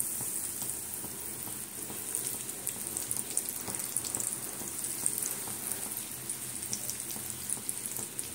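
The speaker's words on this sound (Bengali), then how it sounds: "দেখো তেলটা আমার গরম হয়ে গেছে, দিয়ে দিচ্ছি।" Egg chops, potato-coated, frying in hot oil, a steady close sizzle with scattered crackles and pops throughout, no voices over it.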